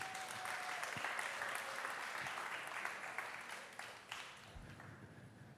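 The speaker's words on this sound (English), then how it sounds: "Give yourself a big hand." Steady applause from a concert audience, a dense wash of clapping that stays fairly even before thinning slightly toward the end.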